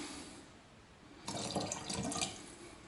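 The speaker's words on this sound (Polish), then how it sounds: "tyle dolewamy wody zwykłej, przygotowanej ostudzonej" Boiled, cooled water is poured into a homemade mixture in a short, splashing stream that starts midway, close and fairly quiet.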